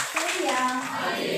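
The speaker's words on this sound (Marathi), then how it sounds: "आपण जोरात टाळ्या वाजवून प्रभू येशूला धन्यवाद देऊया" A congregation at a Christian prayer centre in Kondgaon claps loudly and briskly, with voices mixed into the clapping.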